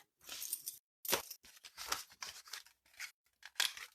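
Scissors cutting into material, a series of close crisp snips and slicing strokes in quick irregular bursts with short gaps between.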